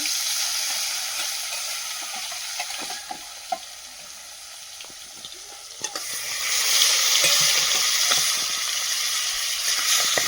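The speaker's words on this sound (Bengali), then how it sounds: "মাছগুলো ভেজে নেবো" Tilapia fish frying in oil in a home kitchen, a steady close sizzle that swells louder partway through, with occasional sharp spits and pops and no talking.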